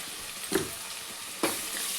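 Ginger garlic paste with turmeric is stirred in a hot pan, a faint low sizzle broken by two soft spoon scrapes about a second apart.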